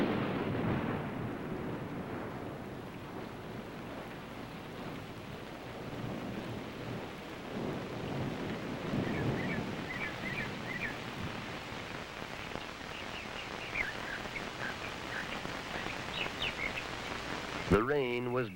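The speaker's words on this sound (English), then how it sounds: "The rain was bound to pass" Steady rain falls through a wilderness journey, with low rumbling that fits distant thunder rolling under the downpour; a few faint bird-like chirps come through near the end.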